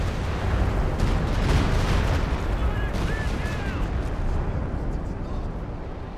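Artillery fire in Company of Heroes 2, a dense, continuous rumble of overlapping blasts and crackling bursts that stays loud throughout, with a few faint whistling tones mid-way and a voice talking underneath.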